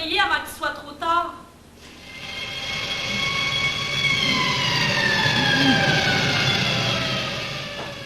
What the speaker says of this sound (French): On entend déjà les sirènes.